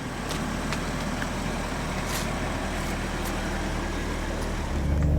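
A BMW Z4 M Series turbo engine hums in a steady, moderately loud drone with faint road noise, rising a little at the very end.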